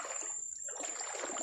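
Deep floodwater in barangay Mamali rushes and splashes steadily and close by, a broad continuous wash with a brief lull in the middle and no talk over it.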